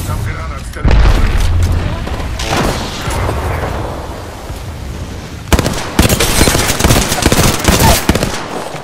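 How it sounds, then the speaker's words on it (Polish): A grenade blast in Apex Legends lands with a heavy, close boom, followed later by a dense, loud crackle of battle noise, with a voice speaking over parts of it. "Rzucam granat z terenu."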